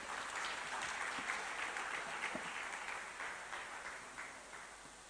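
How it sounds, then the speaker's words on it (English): Sustained audience applause in a hall at a female founders and funders program event, dense steady clapping that slowly tapers toward the end, with no talk over it. "Please keep on clapping till he gets to his seat"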